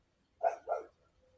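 A dog barks twice indoors, two short close barks in quick succession, followed by quiet.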